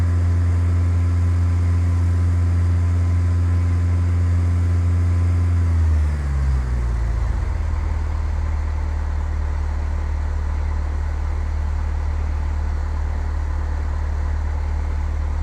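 A steady, loud single-engine propeller plane drones in Flight Simulator X during a climbing lesson, with a strong low hum that drops in pitch and changes character about six seconds in, then carries on evenly.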